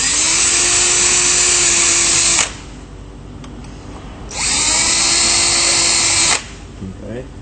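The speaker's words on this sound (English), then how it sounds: "I'm going to drill them out." A power drill drilling out screw holes in a screen rail whines in two sustained bursts, each running a couple of seconds, separated by a quiet pause with faint handling noise.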